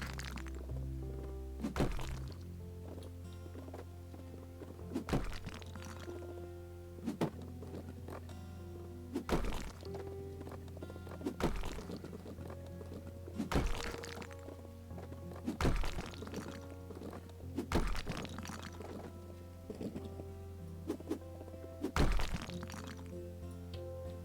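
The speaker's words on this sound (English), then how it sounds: "So we're going to destroy these walls here." Walls being smashed down in the House Flipper video game, with a steady run of loud, regular thuds and cracking impacts over constant background music, no talking.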